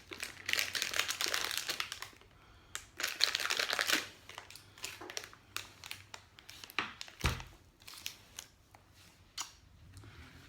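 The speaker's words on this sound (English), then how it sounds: "We're gonna rip off a chunk of fondant just like that." Fondant being torn and worked by hand on paper with powder nearby, giving soft crinkling and tearing rustles in bursts, close and fairly quiet, with no talking.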